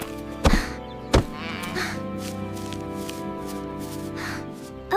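Sheep bleat on a farm, a few drawn-out wavering calls at moderate distance, broken by two sharp thuds near the start, with a quiet background and no speech.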